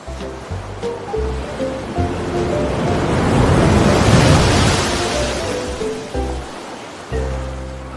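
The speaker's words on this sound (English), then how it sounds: "a big wave washed away 4 of them" Ocean waves wash onto a beach in one broad surge of rushing surf that builds to a peak and recedes, loud and close, mixed with light background music.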